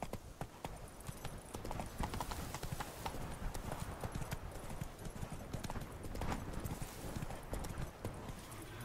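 Roach, a horse in The Witcher 3 video game, gallops with a fast, steady clip-clop of hooves that stays close and clear throughout, over a faint background.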